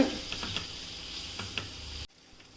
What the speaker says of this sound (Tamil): இதெல்லாம் ஒன்றோட ஒன்று நல்லா மிக்ஸ் பண்ணி கிளறி விட்டுக்கோங்க